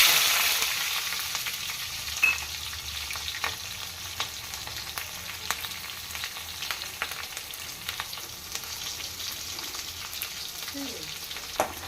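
Sliced onion and green chillies fry in a pan for a spinach and potato curry, producing a steady, close, crackling sizzle that continues throughout with occasional sharper pops.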